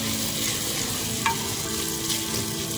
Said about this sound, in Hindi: प्याज हमारे जो है वो ब्राउन हो रहे हैं, इनको थोड़ा सा और ब्राउन करेंगे।